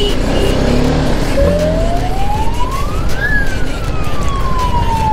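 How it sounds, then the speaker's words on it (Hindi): A police car siren wails loudly and continuously on a highway, sweeping up and down in pitch over steady road and engine rumble, heard from a motorbike riding close behind the police vehicle. "सायरन बज रहा है पुलिस की गाड़ी का ना"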